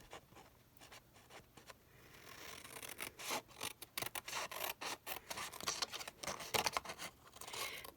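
Scissors cutting paper at an angle for a handmade junk journal pocket, a quiet series of crisp snips and rustles growing busier toward the end, close and soft.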